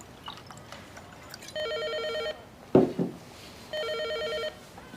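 A telephone rings twice, each ring a steady electronic trill lasting under a second, with a short clatter in the gap between the two rings in a quiet indoor room.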